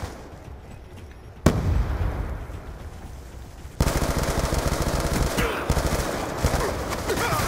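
A turret explodes in Call of Duty Black Ops 2 multiplayer, followed by a crackling rumble, then a second loud blast and a dense stretch of rapid gunfire-like pops and bangs.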